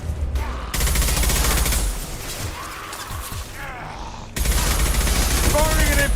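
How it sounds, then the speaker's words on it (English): Gunfire in Mass Effect 2 combat, with loud bursts of rapid shots and impacts that start, break off, then resume, and some voices in the mix. "Firing an impact shot!"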